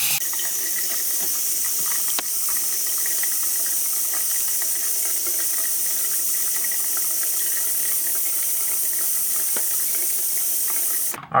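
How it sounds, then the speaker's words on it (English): Hot tap water runs steadily over two toy wrestling figure head scans stacked together, a loud, continuous hiss and splash lasting the whole stretch without pause or talk. "We're just going to place the 2 head scans on top of each other, run the water"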